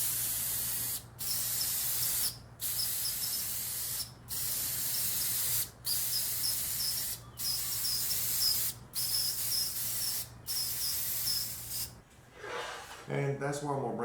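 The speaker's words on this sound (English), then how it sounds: "And then we'll finish it off with a little spray lacquer." Repeated short bursts of spray lacquer misting onto a small scrap-wood placard, about seven evenly spaced hisses with brief pauses, close and steady, followed by a different rattling sound at the end.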